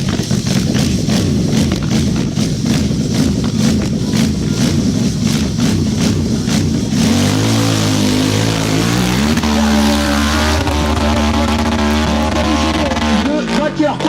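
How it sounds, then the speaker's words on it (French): A motorcycle engine revs hard and loud at the impossible hill climb event in Arette, first a rapid choppy blatting as it fights for grip, then a steadier rising, wavering whine, while a commentator talks over it. "La machine qui est toujours en fonction. Le moteur qui tourne"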